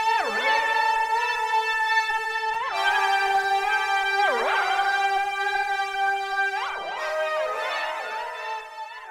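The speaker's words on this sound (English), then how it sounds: "lead sound with the tube tape added in. And then here's with the Leslie added in." Synth lead from a modular studio rig, run through tube tape saturation and a Leslie rotary speaker effect, playing sustained bright harmonic notes with swooping pitch bends and wobbling swirl, a few phrases with brief gaps, loud and alone.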